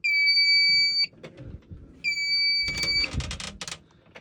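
A fire alarm panel sounds a shrill electronic alarm tone in two long bursts separated by a pause, with clicking and rattling handling noises near the end.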